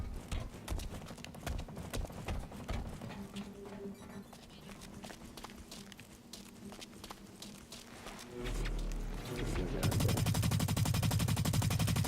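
Gunfire in a PS4 free-to-play shooter game, dense rapid bursts and scattered shots with footsteps and game noise, ending in a loud sustained roar of heavy firing.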